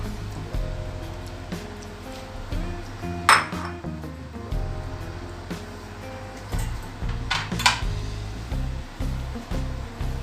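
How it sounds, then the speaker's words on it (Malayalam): Pieces of ash gourd go into a pressure cooker on the stove for a Kerala-style ash gourd and green pea curry, with metallic clinks and knocks from the vessel and a ladle, two sharper clanks standing out. "ഒരു കുക്കർ ഞാൻ അടപ്പത്ത് വെച്ചിട്ടുണ്ട്. അതിലേക്ക് കുമ്പളങ്ങ ഇട്ട് കൊടുക്കണം."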